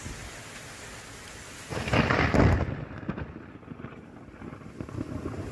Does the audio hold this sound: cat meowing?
no